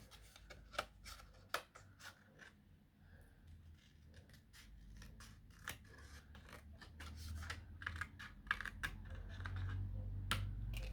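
Scissors snip through card paper for a scrapbooking project, producing a series of sharp, close cuts at an irregular pace over a low background rumble.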